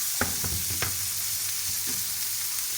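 Shrimp heads with onion sautéing in a pan, a steady hiss of frying oil broken by a few sharp scraping stirs of a spatula, close and fairly quiet.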